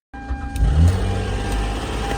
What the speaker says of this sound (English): That's not how a motor's supposed to sound.